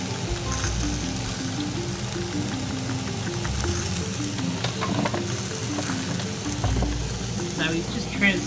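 Vegetables fry in a pan in a community kitchen, sizzling steadily while being stirred, with intermittent scraping and clattering from the utensil and faint background talk.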